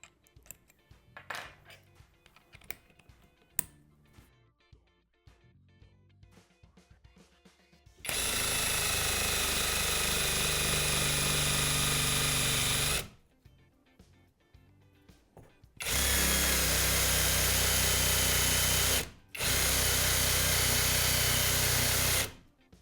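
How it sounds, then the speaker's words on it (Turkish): A cordless drill with a standard, non-wood bit whirs loudly in two sustained bursts drilling into wood, the second briefly interrupted, after a stretch of quieter clicks and handling noises. "Bir de normal matkap ucu deneyelim."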